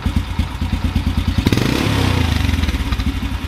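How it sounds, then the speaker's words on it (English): A motorcycle engine idles roughly after carburetor idle adjustment, a loud, close, lumpy chug that swells into a brief rev before settling back to an uneven, pulsing idle. "This bike should be able to idle. Okay,"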